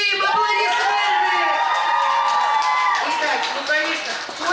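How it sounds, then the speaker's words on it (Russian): A crowd of children cheers, whoops and applauds at a summer camp music quiz game, loud, continuous and close throughout, with a raised voice shouting over the noise. "Аплодисменты!"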